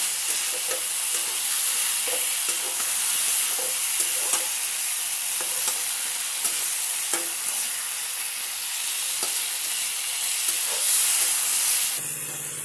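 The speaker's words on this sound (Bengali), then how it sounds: "তাই আমি একটু গ্যাসের ফ্লেমটা একটু হাই করে আমি একটু কষে নেব, যাতে টমেটোর কাঁচা গন্ধটা চলে যায়" Ridge gourd stir-fried with tomato masala over a high gas flame gives a loud, continuous sizzle and hiss, broken by regular scrapes of the spatula, close up and without talk.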